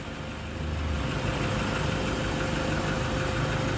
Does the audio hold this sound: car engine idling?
yes